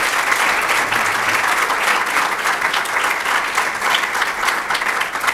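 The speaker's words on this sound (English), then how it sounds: "I think he deserves a round of applause" Audience applause for the President, Kagame, at a youth dialogue, a steady dense wash of many hands clapping that holds loud and even throughout.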